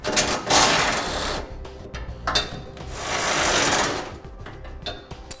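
A ratchet strap being cranked tight to hold a Westin Fey Surestep rear bumper on a truck, close loud bursts of rapid clicking with a brief pause between pulls.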